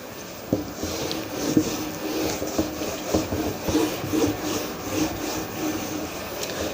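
Duster rubbing across a classroom board to erase percentage problems, a series of brisk scrubbing strokes close up with no talking.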